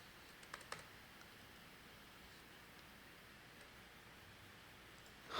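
Faint, quick typing on a computer keyboard, a few clicks close together near the start and then light scattered taps over a steady hiss.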